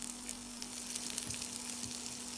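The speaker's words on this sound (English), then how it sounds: "Continue for another 5 minutes until the pork turns a rich golden brown and releases a strong aroma." Pork frying in a pan, later joined by garlic and onions, gives a steady, faint sizzling hiss throughout with a low constant hum underneath and no voices.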